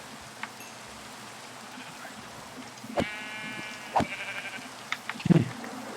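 Sheep in a blocky survival crafting game, a few short bleats at intervals over a quiet, steady ambient background, with no talk.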